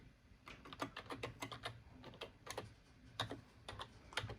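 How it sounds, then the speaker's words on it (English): Irregular clicks on a Packard Bell Multimedia D135 computer keyboard, typed one-handed in uneven bursts with pauses between, close up and fairly quiet, with no talking. "I really suck at typing one-handed."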